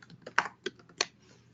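A few keys are tapped on a computer keyboard while searching a web platform, giving several quiet, uneven clicks close by with brief pauses between them.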